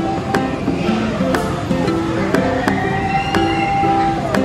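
A toy fire truck siren at an amusement park wails in a rising and falling electronic tone, with regular clicking beats and a faint voice in the background.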